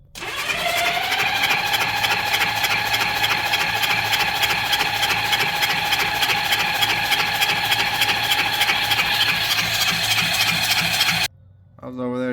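A Honda Goldwing motorcycle that sat unused for five years cranks and catches, then settles into a steady close-up idle for about ten seconds before the engine cuts off abruptly.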